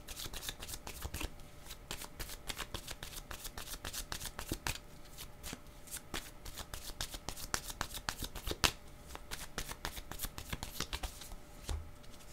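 Tarot cards are shuffled steadily for a love reading, a long, continuous stream of close papery flicks and riffles with no talking.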